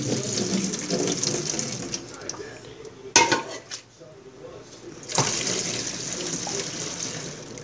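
Homemade liquid castile soap, still warm, is poured into a jar over a sink, giving a steady liquid pouring rush with a few clinks of glass partway through.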